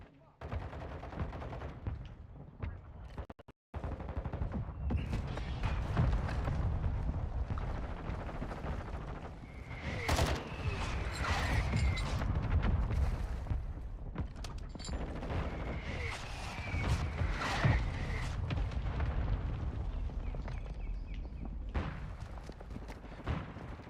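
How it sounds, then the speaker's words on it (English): Repeated heavy blasts from a mortar strike in Call of Duty: Modern Warfare 2 boom amid steady gunfire and battle noise, loud and sustained, with a sudden brief cutout near the start. "Our mortar strike is inbound."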